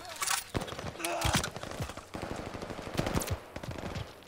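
Rifle fire in Call of Duty: Vanguard, a jungle battle with rapid, sharp gunshots in irregular bursts, some near and loud, others farther off, with brief voices mixed in.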